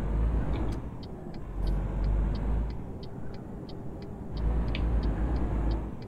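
A European truck drives in the game Euro Truck Simulator 2, with a steady low engine rumble that swells twice, plus a regular ticking indicator clicking in the background.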